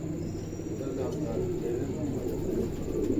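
Pigeons coo softly in a loft under a constant hiss of crickets or insects, the calls blending into a dense, steady background.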